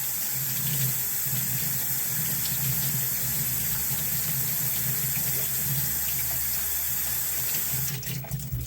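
Hot water pours steadily from a tap to rinse a motor part, a continuous close hiss and splash that holds evenly, briefly disturbed near the end.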